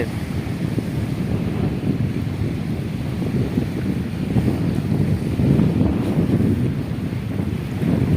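Waves wash on the Ganges river under a cloudy sky, a continuous low churning rumble mixed with wind buffeting the microphone, swelling slightly midway and with no talking.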